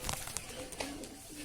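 A pigeon at a rooftop pigeon loft coos softly, a few faint, short calls among light outdoor background noise.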